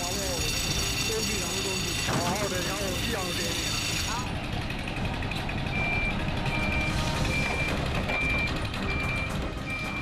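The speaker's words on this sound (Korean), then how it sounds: "한 대의 트럭이 거의 채워지면 또 다른 트럭이 뒤를 잇는다" A truck at a quarry sounds rapid repeated reversing beeps over a loud, constant engine drone, with other machinery rumbling in the background and no clear talk.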